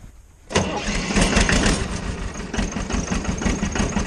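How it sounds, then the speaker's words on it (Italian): A Fiat 250 tractor engine cranks and catches abruptly after a brief quiet moment, then settles into a loud, rough, rhythmic diesel idle close by. "accendiamo il trattore."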